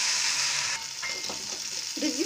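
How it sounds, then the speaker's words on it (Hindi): Potatoes roast in hot oil in a kadhai that still holds freshly cooked spices, giving a steady, close sizzle with faint stirring scrapes and no talking. "जिस कढ़ाई में हमने मसाले तैयार किए हैं, उसी कढ़ाई में हम आलू को अपने रोस्ट कर लेंगे"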